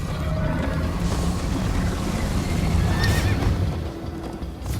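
A horse in the Minecraft: Story Mode video game gallops in a chase, with rhythmic hoofbeats running throughout and a shrill neigh rising over them near the middle, all loud and close.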